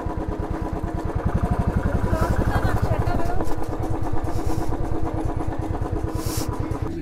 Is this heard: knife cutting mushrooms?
no